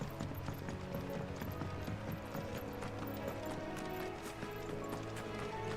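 A chocobo runs in Final Fantasy XVI, its steady clip-clop footfalls loud and continuous over a dense layer of game music.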